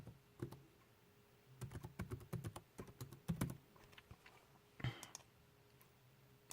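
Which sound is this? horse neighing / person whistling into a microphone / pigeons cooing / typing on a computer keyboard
typing on a computer keyboard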